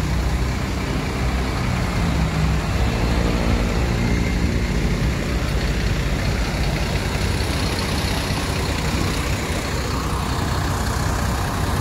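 A bus engine idling as it warms up in the morning, a steady loud diesel rumble that holds constant throughout, with no talk over it.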